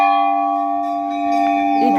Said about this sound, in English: The spiritual environment and the sound of bell